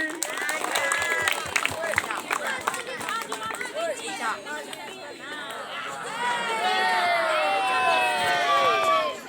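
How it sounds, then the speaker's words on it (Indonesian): Students at a junior high school presentation clap as a group, brisk scattered claps mixed with excited young voices and crowd chatter, fairly loud and swelling toward the end. "Tepuk tangan Tori."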